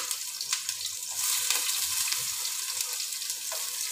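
Onions browning in oil for a rice dish give a steady, dense sizzle with a few crackles and pops, close and fairly loud throughout, with no speech.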